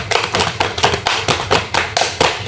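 A class claps a rhythm together in sharp, even groups of hand claps, about eight crisp slaps in quick succession, loud and close.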